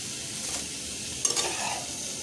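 Cauliflower frying in oil with salt and turmeric, a steady close sizzle with brief stirring scrapes partway through, no voices.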